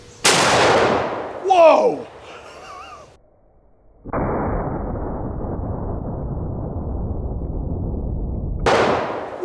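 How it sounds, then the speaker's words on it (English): A .500 Smith & Wesson Magnum revolver and a .45-70 rifle are fired together in one loud, sharp combined blast at the start. A person exclaims right after, and a long stretch of steady rushing noise follows. "let's shoot the 500 Smith & Wesson Magnum and the 4570 at the same time"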